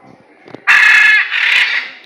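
A bird in the Pilikula zoo aviary lets out a loud, harsh, crow-like screech that holds for about a second, then a second slightly softer screech follows, after a faint earlier call.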